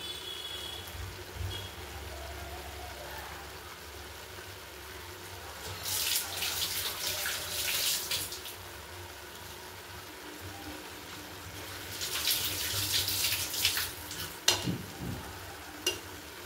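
Tap water runs while a goat's head and trotters are washed in a sink, a low steady trickle that twice surges into a louder gushing splash, with a few clunks near the end.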